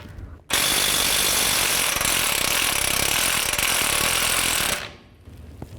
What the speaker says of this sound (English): Now I'm going to take this bolt out, just use a 18mm socket.